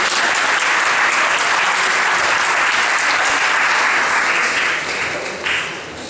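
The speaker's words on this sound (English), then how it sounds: "Also, please don't clap. I haven't said anything yet." Audience applause at a political talk on imperialism in the Middle East, a loud sustained burst of many hands clapping that tapers off toward the end.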